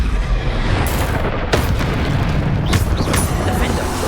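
Spell explosions from the wizarding game Hogwarts Legacy, a loud continuous rumble of booms and blasts with sharp bursts around the middle and end, filling the whole stretch amid dense battle noise, with a voice shouting over it.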